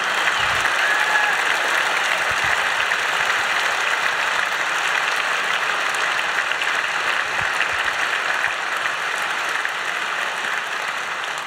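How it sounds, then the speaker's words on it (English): Sustained audience applause for a speaker at a German science slam, a dense, even wash of many hands clapping that holds steady at full volume throughout with no voices breaking through. "Aniruddha Dutta, your applause."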